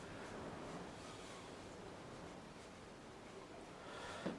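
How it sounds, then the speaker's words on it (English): Wind blows outdoors as a faint, steady rushing noise that stays even throughout, with a small bump of handling noise near the end. "Very windy now."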